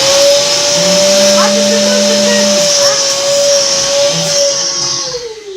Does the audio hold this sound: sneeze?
no